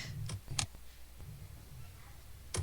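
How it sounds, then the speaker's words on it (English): Scattered key clicks from typing on a computer keyboard, a few isolated sharp taps with pauses between them, close and fairly quiet over a faint room hum. "So I'm typing in that email."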